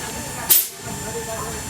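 CNG gas fills a vehicle at a fuel station pump, a single short, sharp hiss of gas bursting out and fading fast against steady background noise.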